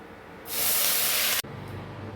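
A fish-head mixture poured into hot oil with chilli and whole cumin bursts into a loud, sharp hiss that holds for about a second and then cuts off abruptly, leaving a faint simmer.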